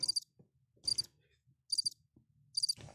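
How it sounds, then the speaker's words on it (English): Crickets chirp in short, bright bursts that repeat about four times at a steady rhythm, fairly loud against a quiet, low background hum. "I'm gonna give y'all the crickets."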